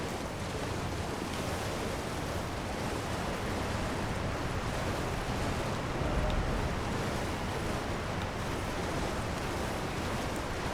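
Waterfalls rush in the Elden Ring DLC video game: a steady, unbroken broadband roar of falling water that stays at an even level throughout, with no voices.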